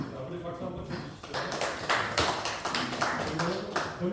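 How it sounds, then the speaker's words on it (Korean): An audience at a press conference gives a brief round of applause, many hands clapping in a dense, uneven patter that swells and continues under a speaking voice. "우리 박수 한번 쳐주시죠"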